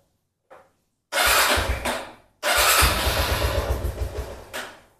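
A motorcycle with a faulty starter circuit cranks and fires up once the clutch lever is pulled: a brief click, then a loud engine catch around one second, a short pause, and a second start settling into a steady close-up idle.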